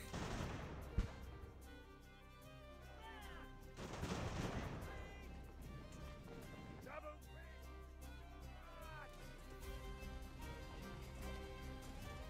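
Naval battle in Ultimate Admiral: Age of Sail, with cannon fire from sailing ships booming in several heavy, rumbling volleys around the 1, 4 and 7 second marks, over continuous background music and battle noise.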